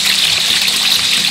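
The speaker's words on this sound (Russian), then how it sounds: "Вода бежит" Water running beneath stones at the source of a river high in the Zabaikalye mountains, a steady broadband rushing and gurgling that stays close and constant with no voices.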